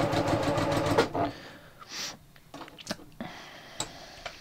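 A sewing machine with a bias binder attachment runs in a rapid burst of stitching, stops, then makes scattered ticks and clicks before stitching resumes briefly; close and moderately loud.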